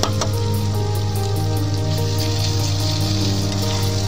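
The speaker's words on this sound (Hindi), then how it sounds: "ये देखिए, मैंने तेल में मिर्ची डाल दी है।" Green chillies fry in hot oil for a pickle, a continuous close sizzle and crackle over a steady low hum.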